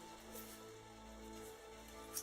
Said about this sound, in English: There's a lot of rain outside right now.